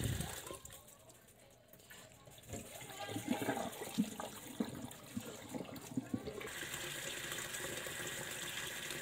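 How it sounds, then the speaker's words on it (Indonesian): Hot tap water runs into a kitchen sink or pot while Taiwanese-style duck glass noodles are being prepared, a soft steady stream that swells midway and continues, with faint talking in the background. "karena ini pakai air keran yang panas"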